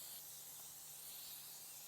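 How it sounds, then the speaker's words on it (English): Olive oil spray hisses continuously onto a grill, a steady, faint, airy spray with no pauses and no voices. "I always use an olive oil spray. So I spray the grill so the fish doesn't stick."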